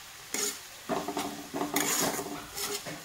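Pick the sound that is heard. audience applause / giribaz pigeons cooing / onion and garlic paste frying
onion and garlic paste frying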